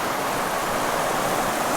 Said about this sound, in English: Now we're coming to a waterfall.